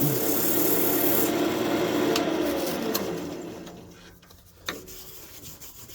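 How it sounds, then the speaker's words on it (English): Sandpaper rubbing against an oak newel post cap spinning on a wood lathe, a steady loud rasping hiss that fades toward the end, with a sharp knock near the close. "I never use the sandpaper to shape the profile, just to clean it up a bit."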